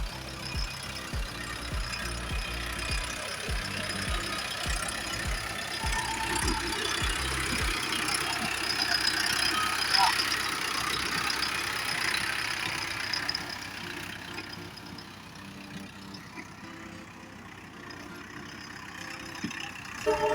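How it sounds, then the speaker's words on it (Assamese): Tractor engine running steadily while a young woman drives it across a farm field, a low rumbling drone that holds at moderate distance throughout, with no talk over it. "এতিয়া আমাৰ পূজাই ট্ৰেক্টৰ চলাই আহি আছে।"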